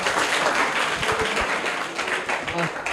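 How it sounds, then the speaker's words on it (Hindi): A school audience gives loud applause for a first-place prize winner, a steady broadband wash of many hands clapping with a few louder thumps. "इनके लिए जोरदार तालियां हो जाए।"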